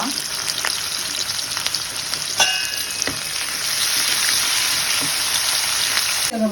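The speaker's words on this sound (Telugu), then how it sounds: "చిన్నగా కట్ చేసుకోండి ఆనియన్స్ ఆనియన్స్ బాగా వేగాల" Finely chopped onions fry in a pan with a loud, crackling sizzle throughout, broken by an occasional stir or tap of a spoon. There is no speech.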